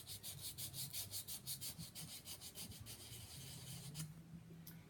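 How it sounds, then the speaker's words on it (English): Rhythmic rasping scrape of old gasket residue being worked off the intake area of a 1973 Mercedes 280SE, steady close strokes repeating about twice a second, then a longer even scraping pass. "My main concern is get that gasket residue off."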